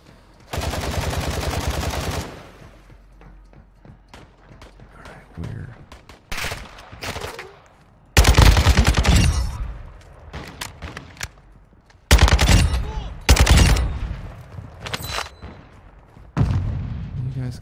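Gunfire rings out in a DMZ video game match, with several loud bursts of automatic fire separated by quieter stretches in which voices talk.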